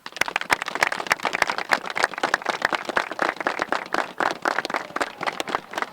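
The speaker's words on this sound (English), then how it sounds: "Clap it up." A high school football team claps in rapid, steady unison after a shutout win, producing a dense, sharp run of handclaps that carries on without a break.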